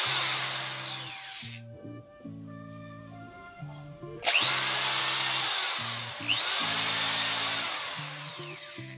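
An ibell electric screwdriver runs at high RPM on 230-volt mains power, giving a loud, steady, high-pitched whine with stepped low hum tones underneath. It cuts out briefly near the middle, then starts up again and keeps spinning close by.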